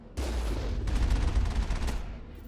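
The Mako tank's cannon in Mass Effect fires at turrets on the Moon in a loud sustained barrage of rapid, heavy booming shots that fades away toward the end.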